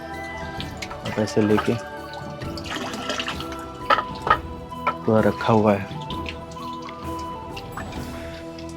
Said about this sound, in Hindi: ये देखो यहाँ पर पानी वानी है पूरा बढ़िया से